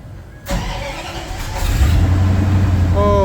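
A 1967 Bombardier Wide Gauge snowmobile engine cranks and catches after a click, rising into a loud, rough, steady running rumble close by.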